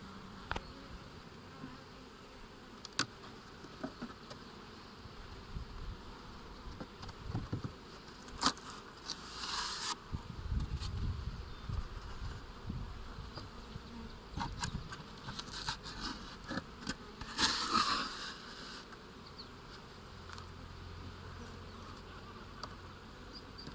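Honey bees buzz steadily at an open hive during inspection of a colony strengthened with extra bees, with frames full of stored nectar and pollen; the humming is close and continuous, with occasional louder swells as bees pass near.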